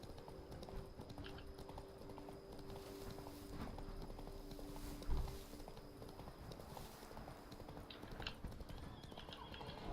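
Roach, a horse in the video game The Witcher 3, moves with steady rhythmic hoofbeats under game ambience and music, moderately loud, with one heavier thump midway.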